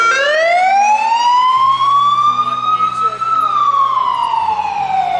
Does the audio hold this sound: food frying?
no